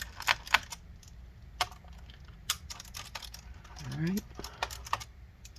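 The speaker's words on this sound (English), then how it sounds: "So let's remove these 3 last screws." Screws being undone from the underside of a Dell Studio 1558 laptop: scattered small clicks and taps of a screwdriver, close and faint, with a brief ratcheting whir in the middle and a voice speaking briefly.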